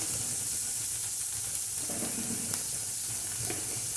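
Onion sautés in a pan for beetroot poriyal, giving a steady, fairly loud hiss with brief stirring scrapes and a clink or two near the middle.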